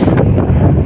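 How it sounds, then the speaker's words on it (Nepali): Strong wind blows beside a riverbank, buffeting the microphone in a loud, steady rumbling roar for under a second, with no voices. "हावा लास्टै चलिरहेको छ"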